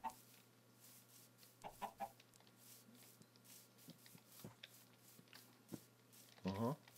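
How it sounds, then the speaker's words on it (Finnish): A Minecraft chicken clucks in short, soft bursts scattered over a quiet hum, with a louder flurry of clucks near the end. "Mennään, se on kana."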